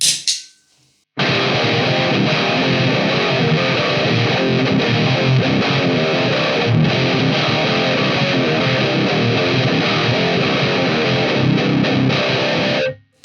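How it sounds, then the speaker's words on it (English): Electric guitar played through a Nux distortion pedal, a loud, thick, saturated tone sustained without a break for about twelve seconds after a short silent lead-in and then cut off abruptly. "Nux Distortion."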